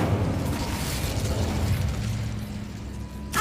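An Incendio fire spell cast in Hogwarts Legacy, a dense, roaring burst of flame and rumble that fills the whole stretch at steady loudness, with a faint mechanical rattle underneath and no voices.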